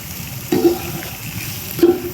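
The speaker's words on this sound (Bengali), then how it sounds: "একদম মিহি করে কুচনো পেঁয়াজ পরিমাণ মতো দিয়ে পেঁয়াজটাকে ভালো করে কষতে থাকলাম" Finely chopped onion sautéing in a pan in a village kitchen, giving a soft steady sizzle with two scraping stirs of a utensil against the pan.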